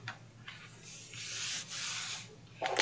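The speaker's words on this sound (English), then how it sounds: "I'm going to take my finger blade and cut off some of the excess" Finger blade slicing away excess paper on a planner cover, a soft continuous scratchy rubbing that swells in the middle and trails off, close and quiet, with no talking.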